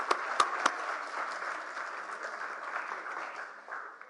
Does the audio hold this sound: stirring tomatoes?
no